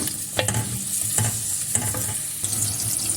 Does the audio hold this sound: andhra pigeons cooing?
no